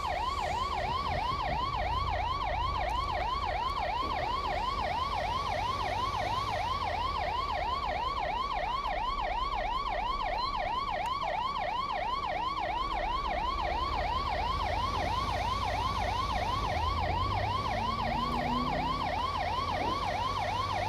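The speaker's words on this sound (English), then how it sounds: "Arguably no need for the siren at this time." A video game fire truck siren in a Los Santos fire simulation wails in a fast, steady yelp that cycles continuously, loud and close over low engine rumble.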